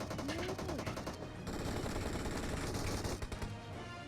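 Rapid bursts of automatic gunfire rattle loudly and almost nonstop, with sharp repeated shots layered over a busy game soundscape.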